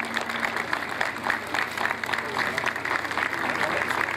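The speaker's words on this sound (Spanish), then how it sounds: "Un fuerte aplauso a la sección de desfile de la Fuerza Aérea Argentina" Crowd applause at an outdoor patron saint festival in Coronel Moldes, a steady, dense clapping from many people, with voices speaking over it.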